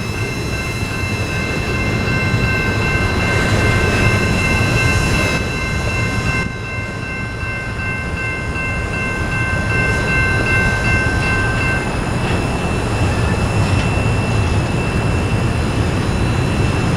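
Norfolk Southern freight train NS I-38 rolls past heading into Andrews Yard in Columbia, South Carolina, a steady loud rumble of wheels and cars with a high whining tone, continuous throughout with no talking.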